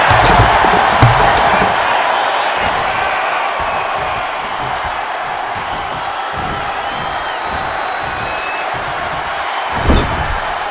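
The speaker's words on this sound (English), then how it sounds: "Listen to this crowd. What a feeling." A large wrestling crowd roars steadily throughout, a loud sustained cheer with a brief thud or slam near the end.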